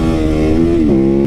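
A supermoto motorcycle engine revs loudly and close by, a steady buzzing drone that dips and shifts pitch briefly in the short burst.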